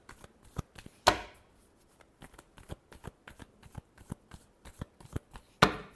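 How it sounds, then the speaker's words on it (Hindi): Tarot cards are shuffled by hand in a rapid series of soft papery taps and riffles. Two louder, sharper snaps stand out, one near the start and one near the end. "Last shuffle."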